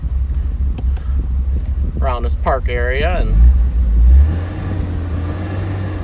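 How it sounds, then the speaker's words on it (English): A deep, rumbling four-cylinder exhaust from a 1986 Alfa Romeo Spider Quadrifoglio swells briefly after a person speaks over wind and a low engine drone. "you're gonna hear it's a pretty deep exhaust note"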